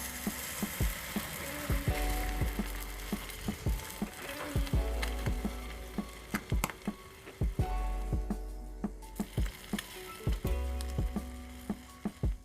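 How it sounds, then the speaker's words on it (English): A hot spoon pressed onto the sugar-topped surface of a keto crème brûlée, giving off crackling, ticking sizzles in repeated sharp bursts over a steady low hum, close and fairly loud. "with a hot spoon, just place it on top of the creme brulee and let it cook"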